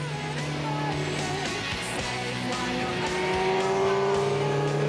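A Mini car engine revs hard toward high RPM, its rising whine building steadily under a busy mix of road and track noise, close and loud.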